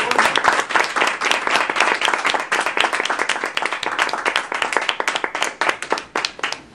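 A meeting audience claps to welcome a speaker, a dense, close, steady round of applause from many hands that holds for several seconds before thinning and tapering off at the end.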